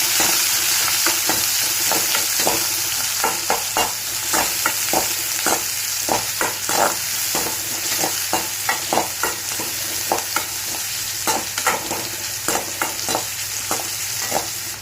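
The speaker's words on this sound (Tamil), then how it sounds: "போட்டு நல்லா வதக்கிக்கோங்க" Onions and green chillies sauté in a pan for biriyani semiya upma, a steady hiss of sizzling broken by repeated clicking spoon strokes as they are stirred, close and with no voices.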